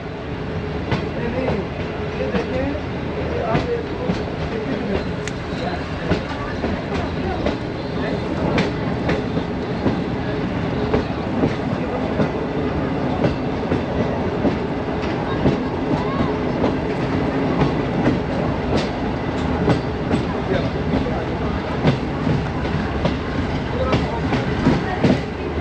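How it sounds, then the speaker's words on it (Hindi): The Awam Express, on the inaugural run of its new rake, rolls slowly out of the Peshawar Cantt railway station yard, giving a steady, loud rumble with faint clickety-clack of wheels throughout and no break. "Aahista Aahista Peshawar cantt railway station का यार्ड क्लियर कर रही है 14 टाउन अवाम एक्सप्रेस"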